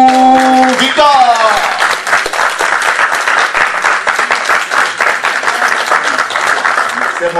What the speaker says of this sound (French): je voudrais que vous fassiez une ovation nourrie au président des présidents